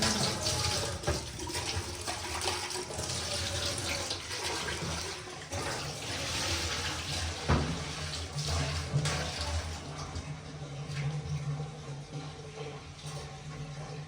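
Water runs from a tap in a village home, a loud, continuous rushing splash that holds steady for the whole stretch without pause.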